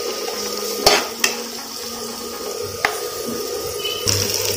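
Onions saute in oil in a pan with green chillies and curry leaves, a low sizzle under sharp metallic clinks and scrapes as a spoon stirs and taps the pan a few times.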